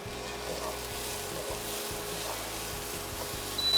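Apples, walnuts and raisins cook together in a hot pan with a steady, even sizzle that carries on without a break, a little louder near the end.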